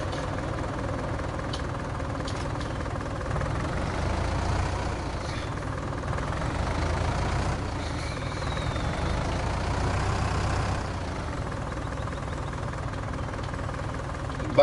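Tractor engine in Farming Simulator 19 running steadily at a low, heavy drone, loud and continuous with slight swells in intensity and no talk.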